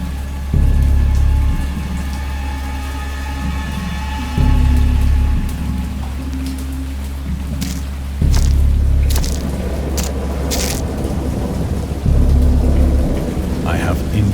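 A storm from the cosmic horror game Dagon: steady heavy rain with repeated deep, loud thunder rumbles rolling in every few seconds, and sharper crackles near the end.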